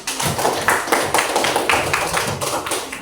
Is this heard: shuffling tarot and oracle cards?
no